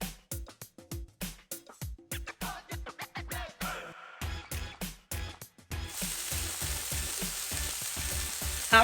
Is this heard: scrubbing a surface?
no